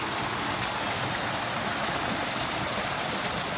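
Mountain stream water flowing at Sitavani temple makes a steady, dense rushing wash that holds level throughout, with no voices over it.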